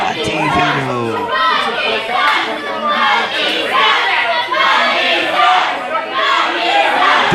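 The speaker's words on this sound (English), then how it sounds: "Do I hear a Bucky sucks chant?" Crowd at a Buckley Cup wrestling match with many kids among the spectators, shouting a rhythmic taunting chant at a wrestler named Bucky; loud, dense and continuous, with repeated swells of voices throughout.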